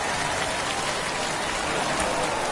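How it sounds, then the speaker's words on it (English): Steady rain pours down over an outdoor minor-league baseball game, a dense, even hiss of drops hitting surfaces that fills the whole stretch without break or talk. "There is rain in the air."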